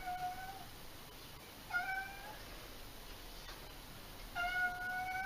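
A cat meows indoors, three short separate meows spread over a few seconds, fairly close and clear against faint background hiss.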